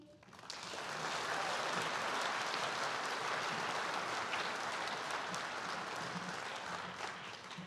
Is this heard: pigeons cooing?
no